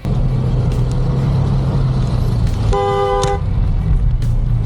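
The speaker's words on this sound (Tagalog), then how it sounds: "itong si Boy Libag ang bumusina" A car horn gives one short, loud toot partway through, standing out over a steady, close rumble of an idling vehicle engine.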